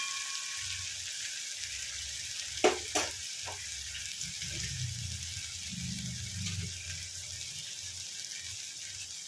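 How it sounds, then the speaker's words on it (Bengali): Dry ground spices such as turmeric and Kashmiri chilli hitting hot oil in a pan with ginger and garlic, a steady close sizzle with a couple of sharp metallic clinks of a spoon and stirring. "এবার আমি এতে শুকনো মশলাগুলো দিয়ে দেবো।"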